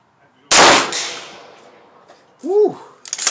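A rifle fires a single sharp, loud shot at an outdoor shooting range, with a decaying tail, followed by a short whoop.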